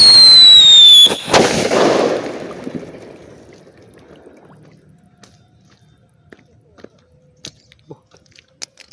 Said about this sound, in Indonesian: kita nyalakan petasan Whistling Thunder